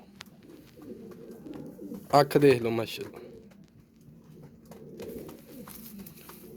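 Low, soft cooing of pigeons, including a male bird with red feet, runs steadily beneath a man's brief spoken remark in a quiet indoor setting.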